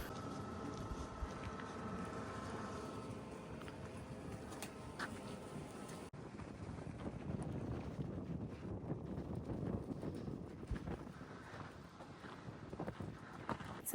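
Strong wind buffets the microphone at Coober Pedy with continuous low rumbling gusts, faint overall but steady throughout.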